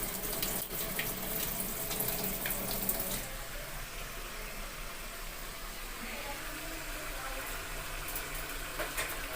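Tap water runs into a bowl coated with leftover spices while it is washed, a loud splashing gush for a few seconds that then settles into a softer, steady trickle.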